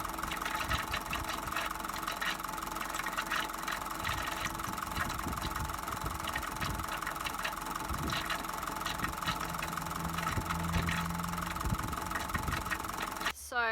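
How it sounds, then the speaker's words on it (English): A bus engine runs steadily with an odd rattling, knocking texture throughout, fairly quiet and continuous, ending with a brief clunk. "it is making a horrible, really bizarre noise from the engine"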